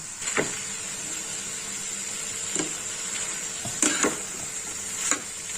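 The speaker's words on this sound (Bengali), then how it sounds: "এটা একদম এই ভাজতে ভাজতেই এটা রান্না হয়ে যাবে" Spiced banana flower and boiled potato curry frying in a pan, a constant soft sizzle broken by several sharp scraping strokes of a spoon as it is stirred, close and without talk.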